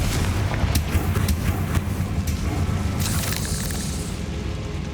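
In Hogwarts Legacy, a Confringo blasting spell sets off a loud, booming explosion with a thick rumbling roar and a few cracking hits, dense and continuous throughout.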